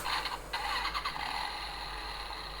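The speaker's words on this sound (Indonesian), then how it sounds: "Nah suaranya kayak mesin motor ya, lagi mau nyalain ya." A Kamen Rider Accel Driver toy belt, a Complete Selection Modification model, plays an electronic motorbike engine-start effect: a bright buzzing rev with a few stutters, then a steady, fading hum.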